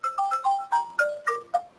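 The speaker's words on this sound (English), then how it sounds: "someone's got their phone off mute, and they're giving us melodic entertainment" A phone ringtone plays a short melodic sequence of bright electronic notes from an unmuted participant on a conference call, fairly clear and alone, with no talking over it.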